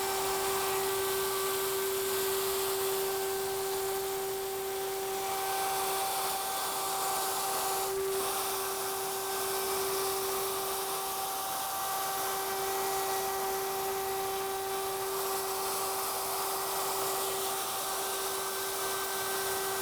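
A router cuts a rabbet along the long edge of a wooden case board, a continuous even whine with steady high tones that holds unbroken for the whole stretch, loud and close, with no talk.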